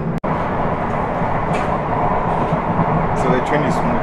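Steady low rumble of a train in Ghana rolling along rails, heard from inside, a continuous drone with faint clatter and a sharp click near the start.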